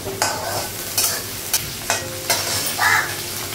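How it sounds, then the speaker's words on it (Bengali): Potatoes and onions frying together in a pan, with several short bursts of stirring and scraping over a faint steady sizzle, fairly close and with no talking. "আলুটা পেঁয়াজটা একসঙ্গে ভেজে নেবো"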